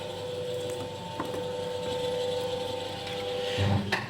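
The tilt motor on a Bode 2-ton welding positioner runs with a steady mechanical hum and a faint whine, broken by a few light clicks and a brief clunk near the end.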